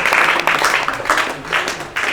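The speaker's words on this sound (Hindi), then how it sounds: "तालियां एक बार।" Audience clapping at a Shrut Panchami celebration program, a short, lively burst of applause from a gathered crowd, close and fairly loud.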